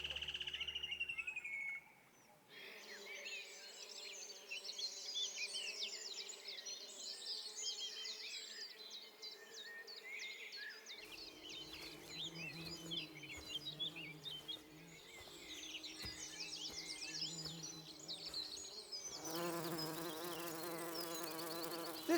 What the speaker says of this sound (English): This garden is filled with the sound of the buzzing of bees.